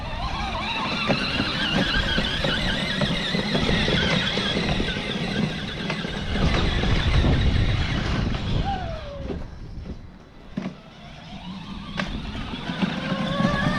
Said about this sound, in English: Almost sounds like a broken gear.